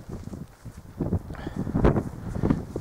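Gusty wind buffets the microphone in low, rumbling waves on a hilltop at Tan Hill, Wiltshire, rising and falling over a few seconds outdoors.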